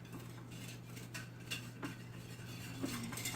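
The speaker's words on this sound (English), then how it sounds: "So I'm just whisking" A whisk stirs tapioca flour made from cassava root in a bowl, giving a string of soft, irregular clinks and scrapes. The sound is close and fairly quiet over a steady low hum.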